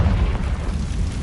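A loud, deep rumbling blast from the Confringo fire spell in Hogwarts Legacy rolls on for over a second as one sustained explosion, close and dominant, with no speech.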